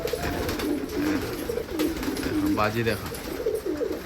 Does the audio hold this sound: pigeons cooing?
yes